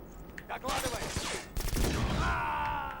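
Rapid gunfire bursts and an explosive grenade shot ring out in the first-person shooter Black on the original Xbox, dense clattering volleys with a heavy blast midway.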